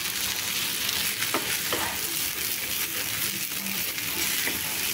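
Mushroom fried rice being stirred and fried in a pan, with a steady sizzle and scraping spatula strokes running continuously throughout, close and fairly loud with no talking.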